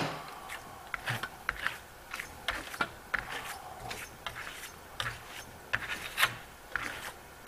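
Steady rubbing and rasping as walnut wax is worked by hand over a Venetian plaster wall, close and fairly quiet, with irregular scraping strokes repeating throughout and no talking.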